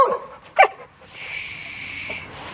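A nervous Fox Red Labrador lets out two sharp barks close by during a lead-walking training session. A longer whining, whimpery tone follows, and nobody talks over it.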